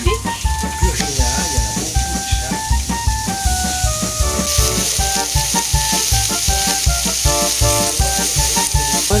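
Food sizzles and spits in a hot pan, a steady crackling hiss with a pulsing rhythm running underneath.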